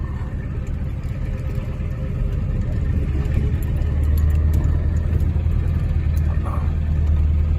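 A 1992 Ford F250 with the IDI diesel engine cruising on the road, a loud steady low drone inside the cab that deepens and strengthens partway through, with no talking.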